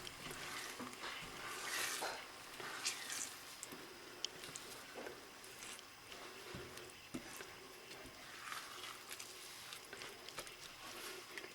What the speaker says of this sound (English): now I'm going to give it a little bit of a stir